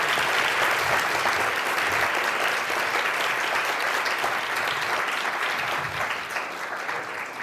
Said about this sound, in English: So please join me in a big round of applause.